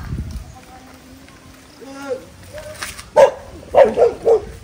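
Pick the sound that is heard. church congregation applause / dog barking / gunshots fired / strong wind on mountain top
dog barking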